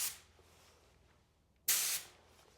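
An Iwata LPH80 spray gun releases a single short, loud hiss of paint onto paper, lasting about a quarter second after a faint earlier burst, with quiet room tone around it.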